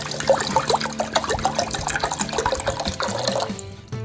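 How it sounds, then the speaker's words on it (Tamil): Water from a tap runs and splashes into a saucepan, about half a litre, steady pouring with bubbly trickling detail, close and moderately loud, ending abruptly with a brief quiet tail. "ஒரு சாஸ் பேனில் ஒரு 1/2 லிட்டர் அளவு தண்ணி சேர்த்துக்கலாம்."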